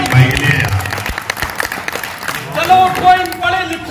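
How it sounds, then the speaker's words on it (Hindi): Audience clapping and cheers at a mushaira poetry recital in Malihpur, Saharanpur, rising in bursts under voices, with speech and poetic recitation dominating much of the sound. "एक बार जोरदार तालियां भाई के लिए।"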